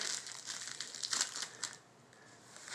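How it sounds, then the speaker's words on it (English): Tape is peeled away in a few quick, crackling, crinkly bursts, close and fairly quiet, ending in a short near-silent pause. "Okay, so take off the tape there."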